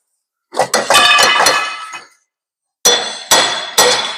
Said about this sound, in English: And just with a little tap from a little hammer now,